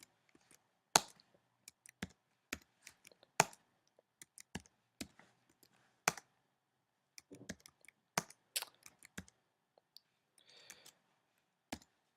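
Typing on a computer keyboard comes as sparse, irregular clicks of single keys and short bursts, close and quiet with long silent gaps.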